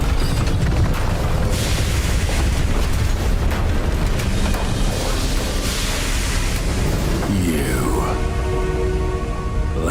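Repeated Confringo fire-spell blasts in Hogwarts Legacy, a dense roar of booms and bursts that fills the whole stretch loudly and continuously, with game speech mixed underneath.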